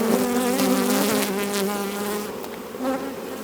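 Honey bees buzzing at a hive during mite-strip treatment, forming a loud, close, continuous humming drone that wavers in pitch and gradually eases off.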